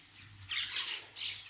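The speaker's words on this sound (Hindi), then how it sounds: "कौवे भी हैं, मैनाएं भी हैं, ये दाने चुग रहे हैं" Crows and mynas squawk while pecking scattered grain outdoors, two short harsh calls close by over a quiet background.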